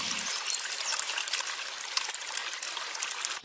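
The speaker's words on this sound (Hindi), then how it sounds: "वे खालिस दूध में पानी मिलाकर उसे 4 बाल्टी कर देता है।" Water pours into milk in a steady, hissing stream that runs without a break for several seconds, then stops abruptly.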